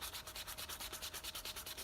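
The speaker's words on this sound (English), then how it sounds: "You can wrap around your finger, and then just sit there, sand it smooth." A homemade crankbait lure is hand-sanded with a small piece of 220 grit sandpaper wrapped around a finger, giving quiet, rapid back-and-forth rubbing strokes in an even rhythm, close and alone.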